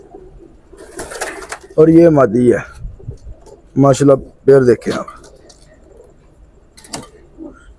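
Teddy pigeons, a male and a female, give several soft throaty coos in short bursts close by, while someone talks in between.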